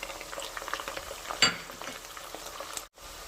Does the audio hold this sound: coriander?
yes